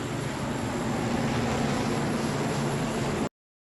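Steady, roaring jet aircraft noise fills the flight deck of an aircraft carrier, a dense unbroken wash of engine sound that holds constant for about three seconds before cutting off abruptly to silence.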